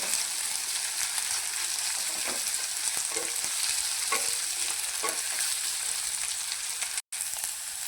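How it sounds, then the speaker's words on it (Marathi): Onion browns in a couple of spoons of hot oil, giving a steady close sizzle broken by soft stirring scrapes at intervals and a brief dropout near the end. "तर 2 चमचे तेल ओतलेलं आहे। कांदा मस्त चांगला ब्राऊन होईपर्यंत भाजून घेऊया।"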